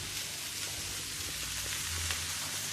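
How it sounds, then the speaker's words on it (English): Tomatoes hitting a pan of sizzling vegetable stir fry, a steady close hiss of frying with light crackles and no voices. "Now I add the tomatoes."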